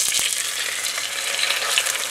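A sous-vide veal cutlet searing in clarified butter in a cast-iron pan, a dense, even close sizzle with a couple of faint knocks at the start, no voices.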